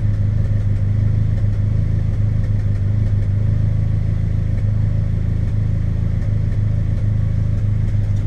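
A Suzuki X90 engine idles roughly and misfires, a continuous loud, close mechanical drone with an uneven, stumbling pulse running throughout and no voices.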